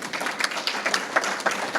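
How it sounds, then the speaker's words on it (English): A crowd at a community meeting on crime and public safety keeps clapping, a steady patter of many hands with a few sharper claps standing out. "Please give her another round of applause."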